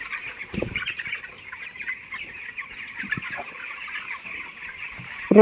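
Chickens cluck and chatter together in a busy poultry farm broiler shed, a constant bright murmur of fowl with occasional thumps and a wing flap.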